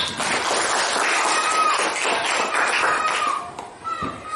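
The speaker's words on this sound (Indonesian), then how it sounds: "Luar biasa, tepuk tangan dulu." A class of students in a classroom claps together, a close, lively burst of many hands with uneven rhythm that dips briefly near the end, with some voices mixed in.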